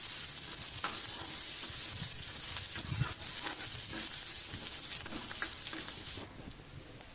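Shallots and curry leaves sautéing in oil with mustard seeds for buttermilk kuzhambu, a dense, close, continuous sizzle with scattered pops and stirring, easing slightly near the end.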